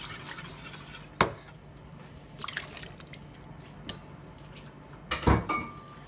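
A spoon scrapes and stirs thick champurrado in a pot, giving soft, faint swishes with a few clinks of utensil against metal, close by and without talk.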